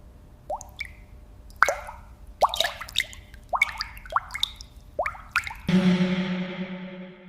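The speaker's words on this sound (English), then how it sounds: "Water drains through instantly." Watery drips and plops from paper pulp draining in a paper factory, a series of separate splashy drops over about five seconds, then a sustained rushing wash of water at the end.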